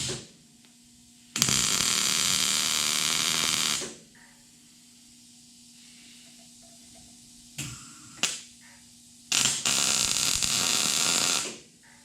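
Welding tacks on a custom car seat bracket come as two loud, crackling bursts of a few seconds each, separated by a quiet stretch of low hum with a couple of faint clicks.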